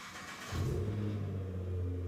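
A Ford GT twin-turbo engine starts and settles into a deep, rumbling idle with a low revving growl, fairly close.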